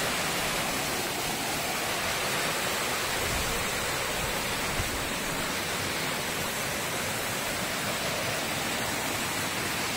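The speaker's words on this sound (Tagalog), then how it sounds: "Ayan yung falls sa dulo." Pangabitkabiton Falls in San Jose, Jamindan, Capiz, Philippines, with water rushing in a steady, loud, unbroken roar that fills the whole scene.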